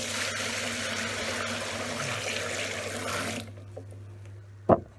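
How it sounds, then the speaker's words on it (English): Tap water pours steadily into a bucket for a cider batch, a continuous rushing hiss that stops partway through, followed by a brief clunk. "basically fill up the bucket with water"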